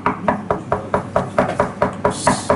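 Repeated knocking on a door, about a dozen evenly spaced raps at a steady rhythm, close and fairly loud, with no talking.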